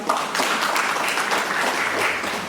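An audience claps for a university rector at a gathering of village officials, a dense, even burst of applause that carries on steadily throughout.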